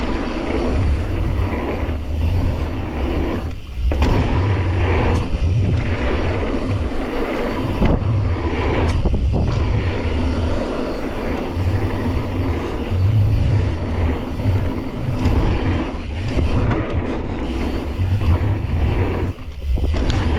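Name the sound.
motorcycle riding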